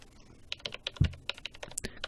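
Rapid keyboard typing from the video game Ace Attorney: Spirit of Justice, a quick, close run of crisp clicks and clacks lasting about two seconds with nothing else around it.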